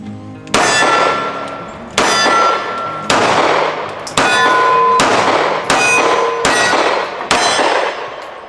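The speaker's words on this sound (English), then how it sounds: "Got a couple steel targets hung down there." Seven sharp shots from a Smith & Wesson 6906 pistol ring off hanging steel targets outdoors, each loud crack followed by a bright metallic clang that decays over roughly a second, spaced unevenly across the stretch with no talking.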